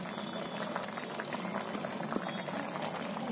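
Eggplant and potato curry with salt, crushed peanuts and coriander simmering in a pan: a steady, soft bubbling and hiss throughout, close and even, with no talk.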